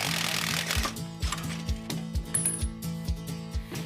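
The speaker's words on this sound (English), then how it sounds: "banging his tools on the floor" Metallic tools clank and bang on a garage floor during a car repair, a series of roughly evenly spaced ringing impacts about twice per second, fairly close and moderately loud.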